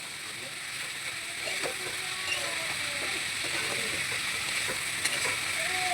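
Turmeric and chilli powder stir-frying in a pan for a soyabean bori curry, a soft continuous sizzle with light scraping and clinking of the spatula, fairly quiet and steady.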